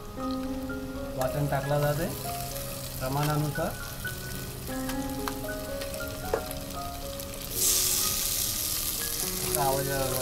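Ginger, garlic, onion and coconut masala paste frying in a pot for chicken biryani, a constant close sizzle and crackle of oil with a louder hissing burst near the end, under intermittent background voices.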